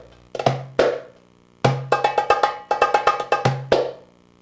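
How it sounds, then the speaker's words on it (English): Half pops on a doumbek, struck a little toward the edge of the drumhead, heard as a handful of close, moderately loud hits in short groups, some deeper ringing strokes among them, with no talk. "Half pops sound like this."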